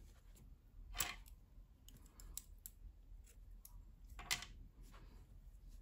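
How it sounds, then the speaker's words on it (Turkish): Quiet snips of scissors cutting yarn during crochet work on a baby vest, two distinct crisp cuts about three seconds apart against a near-silent room with faint rustling handling. "İpliği kesiyorum."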